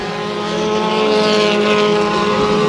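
Race cars roar around the Bakersfield Speedway dirt oval during a heat race, a loud, continuous engine drone with sustained high-pitched harmonics that swells slightly as the pack passes close by.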